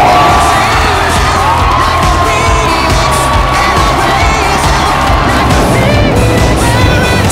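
Thousands of Kia Tigers fans erupt at Champions Field baseball stadium after a go-ahead run, loud sustained cheers, whoops and shouts blending into one constant roar.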